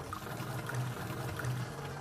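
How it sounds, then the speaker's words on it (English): Water runs from a rain barrel's quarter-turn valve into a vessel below, gravity-fed, making a steady close trickle and splash with a low bubbling fill tone throughout. "simply place your water vessel underneath the quarter-turn valve, turn it on,"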